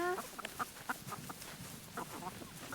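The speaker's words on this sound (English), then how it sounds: "All the chickens are eating it." Chickens cluck softly and intermittently while pecking at a carved jack-o'-lantern pumpkin, with short scattered calls and faint crunching at a distance.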